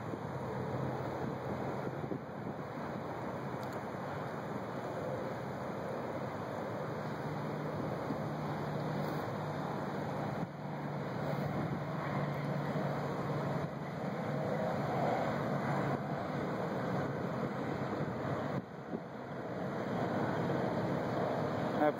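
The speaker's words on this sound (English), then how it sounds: "Apologize for the wind noise." Wind buffeting a microphone on a boat during a fishing trip on a river and pond, a steady, rough rumble lasting throughout with faint water and motion beneath it.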